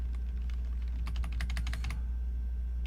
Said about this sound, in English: might be in your best interest to type from the keypad on the actual keyboard